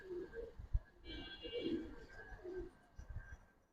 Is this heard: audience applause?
no